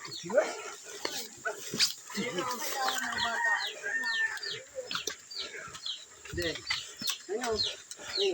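Chickens cluck and squawk busily nearby, mixed with dog barks and people talking in Filipino over them throughout.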